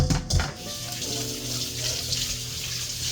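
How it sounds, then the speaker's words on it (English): Tap water runs into a kitchen sink while hands are washed during casserole cooking, a steady, moderately quiet rush with a few splashy bursts near the start. "wash my hands again"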